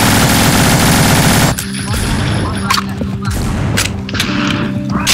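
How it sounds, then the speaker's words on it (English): Dense, continuous burst of rapid gunfire at first, then scattered gunshots and clatter with a voice talking underneath, in the video game No More Room in Hell. "It's the gunshots."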